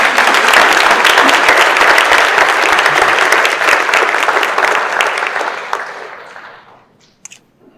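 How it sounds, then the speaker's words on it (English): A breakfast audience at a mentor schools partnership event bursts into loud, sustained applause that holds steady for about five seconds, then thins and fades out, ending with a few scattered late claps. "We give a round of applause"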